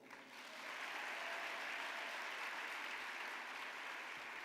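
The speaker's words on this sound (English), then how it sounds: "let's give those who are watching this on live stream a rousing round of applause anyway" A gala audience breaks into sustained applause, a soft-starting clatter of many hands that swells quickly and holds steady and even, heard at a moderate distance without voices over it.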